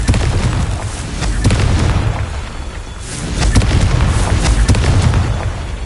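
A Confringo spell explosion in Hogwarts Legacy on PS5, booming blasts in two loud rolling waves with deep rumble and crackling bursts, separated by a brief dip.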